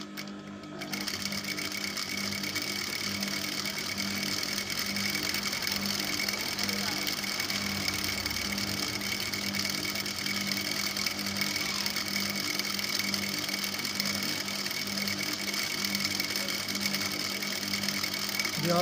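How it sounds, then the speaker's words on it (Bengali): A sewing machine runs steadily and continuously, stitching a decorative border strip onto a child's skirt, a close, even mechanical whir that holds for the whole stretch with no pauses. "এবং যে সাইডে পাড় আছে এই পাড়টা আমি এর সাথে জুড়ে নেব। সেলাই দিয়ে জুড়ে নেব।"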